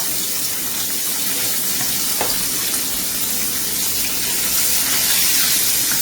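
Loud, steady sizzling and crackling of lobster frying in hot oil, continuous throughout with no voices.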